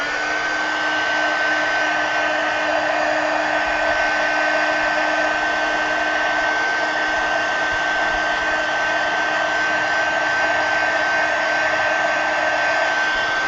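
A hair dryer runs steadily at close range, drying mixed media collage on a pumpkin, a continuous loud whirring blow with a constant whine and no pauses or talking.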